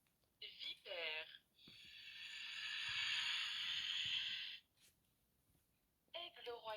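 A baby's toy plays a viper hiss: one long, steady, bright hiss lasting about three seconds. Brief voice sounds come just before and after it.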